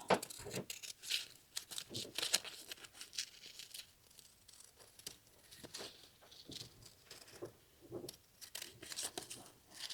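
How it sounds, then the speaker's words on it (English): Scissors snip through a fabric appliqué piece for a quilted denim jacket, close, irregular crisp cuts and rustling of cloth, with short pauses between bursts. "And then we're going to cut it out."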